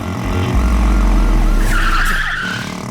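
Car tires skid loudly through a sharp right turn in a dubbed South Indian action movie chase, a sustained screech over a roaring engine, close and continuous with no talk.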